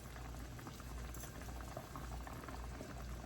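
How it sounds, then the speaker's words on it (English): Chicken simmers at a full rolling boil in a pot of broth, a steady close bubbling and churning that runs without pause from start to finish, with no voices over it. "we have a complete boil"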